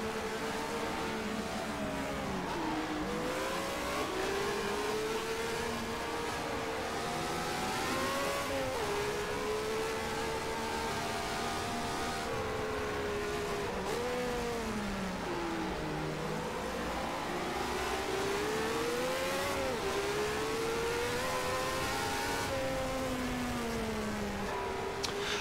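A racing video game car engine revs continuously, pitch rising and falling with gear changes, loud and steady throughout, played on a DIY 4DOF motion simulator with a surge-axis trolley rail.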